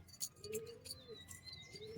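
Soft coos of Giribaz pigeons rise and fall a few times, mixed with faint higher chirps, quiet and close by.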